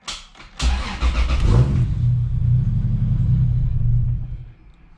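A 2JZ engine in a Supra running E85 cold-starts with a sharp crank and catch, then settles into a deep, loud, steady idle rumble up close, fading slightly at the end.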